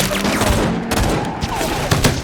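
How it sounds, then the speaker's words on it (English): A rapid volley of gunfire from a gangster drive-by shootout in a movie, with closely spaced shots crackling over a dense, rumbling background. "2 rival gangsters drove past in an intense shootout."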